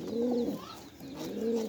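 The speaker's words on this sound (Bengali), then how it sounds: "এই যে কবুতরটা কিন্তু নর।" A male pigeon coos softly and close by, two low rolling calls separated by a short pause, with no voices.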